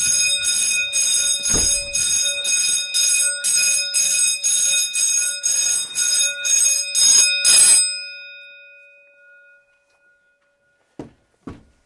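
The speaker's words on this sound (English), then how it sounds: "So this is literally a bell test." Fire alarm bell sounding during an alarm system test, with a rapid series of loud, steady metallic rings for about eight seconds that then stops, followed by quiet and two brief thumps.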